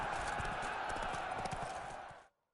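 Hooves clip-clop rapidly as a horse gallops in The Witcher 3, a close, busy patter of hoofbeats that slows and cuts off abruptly near the end.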